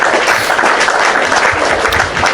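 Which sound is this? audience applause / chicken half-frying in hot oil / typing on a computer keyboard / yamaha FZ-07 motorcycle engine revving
audience applause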